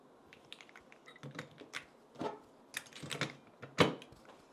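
Keycaps and parts of a Womier RD75 Pro custom keyboard are being reassembled, giving quiet, close, irregular plastic clicks and taps in uneven bursts, with one sharper snap near the end.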